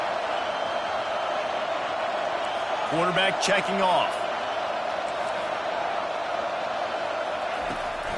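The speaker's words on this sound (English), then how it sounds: "Decibels rising as the crowd gets behind this defense on 3rd down." Loud, steady roar from a football stadium crowd backing the defense on third down fills the whole stretch, with a commentator talking over it.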